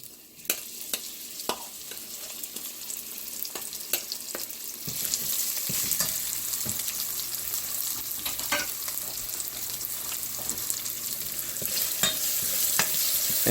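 Onion and garlic fry in brown sugar in a pot for Trinidadian stew pork ribs. A steady sizzle builds and grows louder, with sharp scraping stir clicks scattered throughout and no voices.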